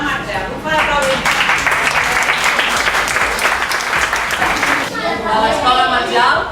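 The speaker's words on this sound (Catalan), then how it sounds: "Un fort aplaudiment" Loud, sustained applause from an audience at a school end-of-year festival fills the hall without pause, a dense wash of clapping that swells briefly again near the end.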